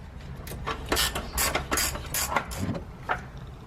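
A ratchet wrench works a 13 mm battery bolt loose on a 2009-2020 Dodge Journey, with close, irregular bursts of sharp clicking strokes separated by short pauses.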